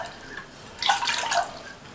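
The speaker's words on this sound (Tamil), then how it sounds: "ஃபஸ்ட்டு இந்த பாத்திரத்தில் 1/2 கப் தண்ணி சேர்த்துக்கலாம்." Half a cup of water poured into a cooking pot while making kolukattai dough, a short splashing pour of about half a second after a quiet lead-in, close but modest in level with no talking.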